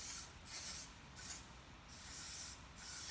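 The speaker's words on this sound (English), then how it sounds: "just quickly we're going to spray the top of the foam, make sure it's sort of evenly coverage" Short bursts of aerosol spray hiss close by as oil is sprayed onto a foam air filter for a KTM50SX motorbike, about four quiet spurts separated by brief pauses.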